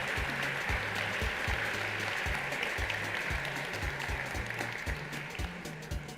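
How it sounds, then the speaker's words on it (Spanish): Audience applause at an awards ceremony for games at an expo in Buenos Aires, a steady broad wash of clapping throughout with a rhythmic low tone pulsing underneath. "Aplausos, vamos."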